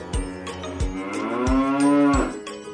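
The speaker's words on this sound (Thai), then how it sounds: "แล้วก็มีวัวด้วยนะครับ" Cattle lowing at a farm park, several long, deep moos following one another close by and loud, with no talk over them.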